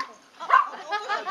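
A dog gives a short, fairly loud bark or yelp in the middle, with people talking softly around it in a home setting.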